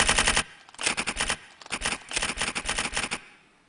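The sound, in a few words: typewriter-style typing sounds from the Tap, Type, Write app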